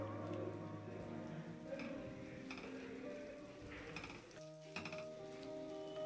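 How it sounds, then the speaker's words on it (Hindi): Onions fry and crackle quietly in a pan while being stirred continuously, a faint sizzle with soft scraping that has a brief dip near the end. "प्याज को लगातार चलाते हुए अच्छे से भुनें।"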